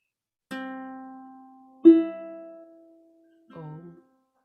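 Three single plucked ukulele notes, spaced apart, each ringing and decaying in a quiet room; the last one is short and muted.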